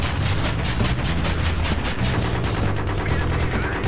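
Battlefield 3 jet missile launch: a loud, dense roar of rapid gunfire-like bursts and rumbling blasts runs steadily through the whole stretch, with no talk over it.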